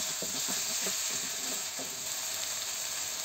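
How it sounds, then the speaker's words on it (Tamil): Ginger garlic paste fries in a pan with a continuous hissing sizzle, a few light scrapes of a spoon near the start, and no voices. "இஞ்சி பூண்டு பேஸ்ட் ஒரு 2 நிமிஷம் அப்படியே வதக்கிடலாம்"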